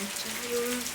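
Heavy rain falls in a mountain village, a steady, close, dense hiss of drops with a faint voice briefly underneath.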